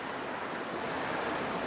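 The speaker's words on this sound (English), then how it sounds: "the noise you can hear in the background is a little waterfall" A small waterfall at Thirlmere in the Lake District gives off a constant, even rushing wash, blended with wind noise and heard from some distance.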